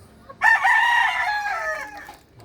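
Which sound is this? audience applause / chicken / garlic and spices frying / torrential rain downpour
chicken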